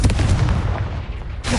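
A Confringo fire-blast spell from the video game Hogwarts Legacy lands as a loud, rumbling explosive boom with a sustained low roar that tails off, then a second blast hits near the end.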